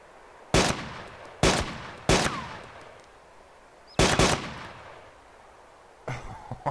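Sharp, loud gunshots from the military shooter game Arma 2, fired at a truck: four distinct bursts with ringing tails, then a quieter cluster of rapid shots at the end, no voices.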